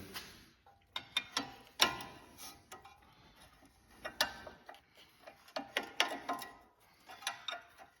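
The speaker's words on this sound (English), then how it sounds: "I actually have a larger flex head 1/2-inch drive ratchet, but this seems to get right in there a little bit easier." A flex head half-inch drive ratchet working on front brake bolts of a 2011 Chevrolet Equinox, close rapid bursts of clicking in uneven runs with short pauses between strokes.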